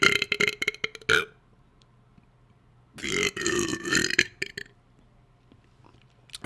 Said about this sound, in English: let me burp before we get started